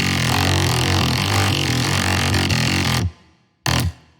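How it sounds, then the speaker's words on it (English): FL Studio wavetable bass run through Trash 2 at 50% mix with a convolver on, giving a gritty, guitar-like distorted tone; loud sustained single notes play, then stop suddenly, followed by one brief stab that fades away. "Trash 2 is what gives it that guitar sound."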